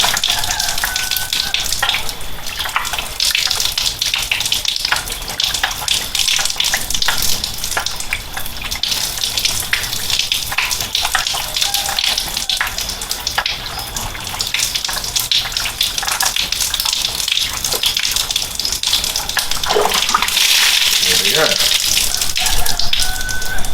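Water gushes steadily from a filter housing as it is unscrewed and removed, a loud continuous rush that runs throughout under occasional talk.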